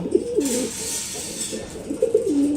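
A male black Bombay pigeon coos close by, giving two soft throaty rolling coos separated by a short pause, over a faint hissy background.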